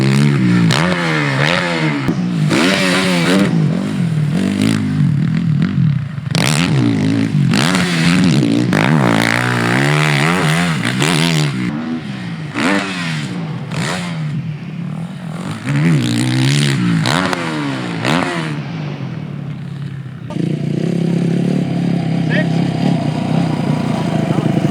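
Dirt bikes racing on a motocross track, engines rising and falling in loud, repeated revving bursts as machines pass close, with talk heard over the engine noise throughout.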